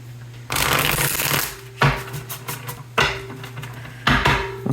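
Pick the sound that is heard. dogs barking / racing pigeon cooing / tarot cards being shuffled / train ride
tarot cards being shuffled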